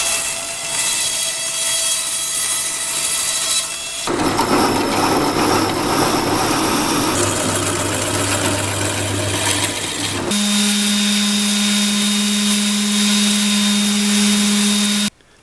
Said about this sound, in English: So now I'm just going to fish it off with the bandsaw.